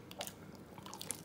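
Someone chewing a big shrimp from a lobster, salmon and shrimp fried rice dish, heard as a brief, soft, close bite followed by moist, squishy mastication, faint and without talking.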